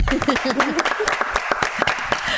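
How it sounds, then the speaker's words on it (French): A studio audience on a midday television set claps in a brief burst of scattered, sharp applause, with a voice speaking over the start. "Ça s'applaudit d'ailleurs."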